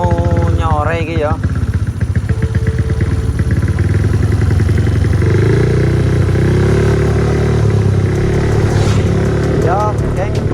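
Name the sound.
motorcycle riding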